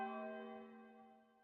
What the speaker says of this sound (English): This bell has been going on.